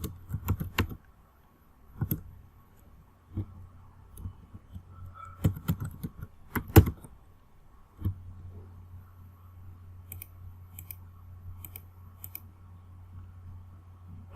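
Scattered keystrokes and clicks on a computer keyboard, sparse and close, with a low steady hum in the background.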